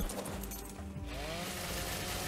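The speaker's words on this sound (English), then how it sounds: "started farming little bugs for their chitin with my chainsaw" A chainsaw in the survival game ARK Scorched Earth cuts into small bugs to farm chitin, giving a continuous buzzing, grinding drone. The sound is steady and close, with a slight shift in tone partway through.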